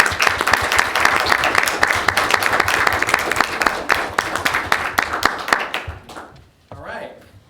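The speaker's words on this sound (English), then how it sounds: "So both of these ladies deserve a huge round of applause." An audience at a school board meeting applauds with dense, loud clapping that holds steady for several seconds, then thins out and fades to a few scattered claps.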